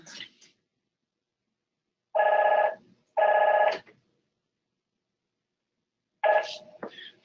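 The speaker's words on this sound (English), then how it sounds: "that was a phone that shouldn't have been ringing in my office." An office telephone rings in three bright electronic bursts, spaced about a second to three seconds apart, with a faint voice and near silence between rings.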